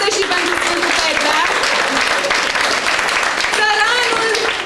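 A theatre audience applauding during a storytelling performance, a dense, loud patter of clapping carried on throughout while voices talk and call out over it close by.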